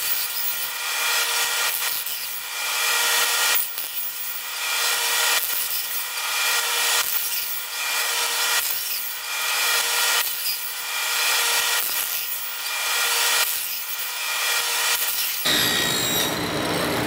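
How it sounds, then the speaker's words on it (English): Wooden tenons are trimmed to width on a table saw, with loud, close rasping cuts repeating in an even rhythm of about one pass every two seconds, ending with a short, quieter clatter. "at the table saw, we're gonna cut the tenons down to width"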